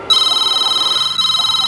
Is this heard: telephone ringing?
yes